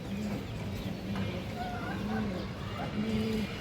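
Pigeons coo softly at a pigeon seller's, several low rolling coos spaced through the clip under steady background noise, with a voice talking nearby.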